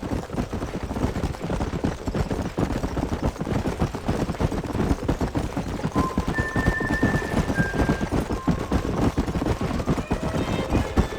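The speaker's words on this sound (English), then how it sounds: "There's the horses!" Hoofbeats of wild horses galloping in Red Dead Redemption, a dense, steady clatter of many hooves with faint whinnies rising over the rumble.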